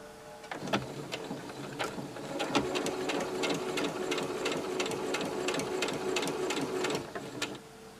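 A sewing machine stitches a shorts waistband in a steady rapid run, starting after a brief pause and continuing evenly before slowing to a stop near the end, close and clear.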